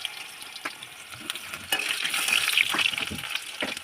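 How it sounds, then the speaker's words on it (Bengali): Potatoes frying in mustard oil for a dhaba-style chicken mince, a steady crackling sizzle with stirring scrapes that grow louder partway through, close and alone without talk. "প্রথমে আমি আলুগুলো ভেজে নিচ্ছি একটু লাল করেই ভাজবো ভালো করে"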